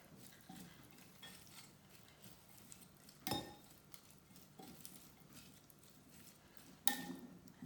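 An almond butter curry dressing is stirred into a sweet potato salad in a bowl, giving soft wet patter and a few sharp clinks of utensil against the dish, quiet and close.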